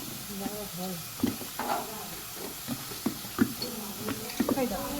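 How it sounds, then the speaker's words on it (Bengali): Drumstick flowers frying in a pan, a soft continuous sizzle with occasional stirring knocks and scrapes, heard under people talking nearby. "মা এখন সজনে ফুলটা ভাজছে"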